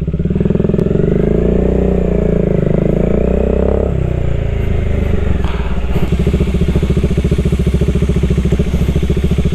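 Heavy motorcycle engine runs close and loud with a rough, pulsing throb, revving up and down over the first few seconds, then settling into a steadier lower chugging run.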